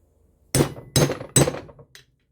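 Three sharp hammer taps strike a Poulan PN3414 chainsaw's crankshaft seal, set against a railway track as an anvil, evenly spaced and close, with a faint fourth tick after them.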